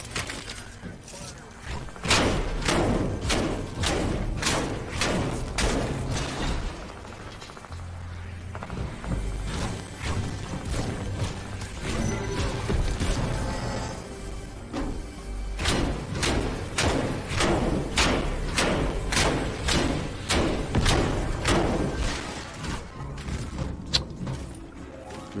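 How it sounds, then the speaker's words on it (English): Rockets fire and blast repeatedly in Fortnite Chapter 2 Season 2 gameplay, with a steady run of loud thumping impacts and bursts over dense game audio throughout. "he's just shooting random rockets now at this place"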